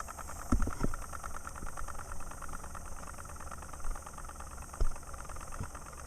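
A model 1905 6hp International Harvester Titan vertical hit-and-miss engine turned by a small 24,000 RPM electric motor with a rubber band on the flywheel, giving a steady close mechanical hum with a few sharp knocks.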